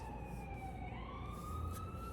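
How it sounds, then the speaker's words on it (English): Emergency vehicle sirens wail faintly in the distance, their rising and falling tones sweeping slowly over a low background hum. "Y'all hear the sirens."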